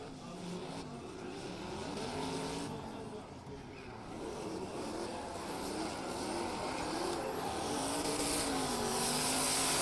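Drift cars including a Nissan 350Z roar through a competition run, engines revving and wailing in continuous loud waves with tire noise, rising in intensity toward the end.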